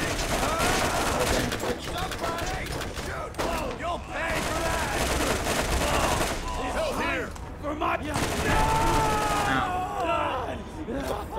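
Gunfire in the video game Borderlands, a continuous loud clatter of shots mixed with game effects and people shouting and talking over it.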